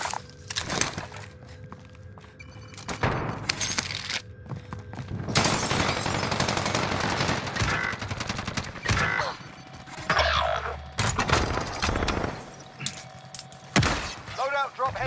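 Gunfire in a video game, heavy bursts and scattered shots with mechanical clatter and footsteps, loud and near, while game voices call out.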